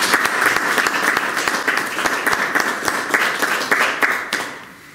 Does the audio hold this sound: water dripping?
no